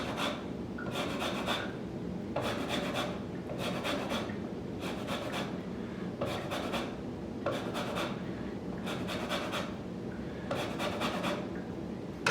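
A whole lime is zested against a grater in a home kitchen, producing rhythmic bursts of bright scratchy rasping. The strokes come at roughly one-second intervals, each a short sweep, close-up with steady low background hum.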